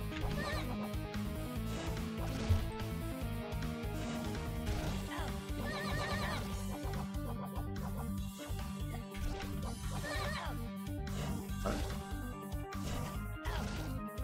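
A horse neighs several times in the video game Evoland 2, each whinny a quavering call half-buried in loud, continuous game music with occasional clattering hits.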